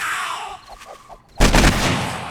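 An AK rifle in the zombie survival game 7 Days to Die fires one loud, close boom after a few quiet soft thuds, and the sharp blast trails off into a lingering rumble.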